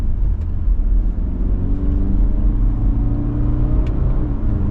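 A 2025 Subaru Forester Sport's engine heard from inside the cabin as it downshifts, a low, steady rumble with a slight rise in revs and no talking over it.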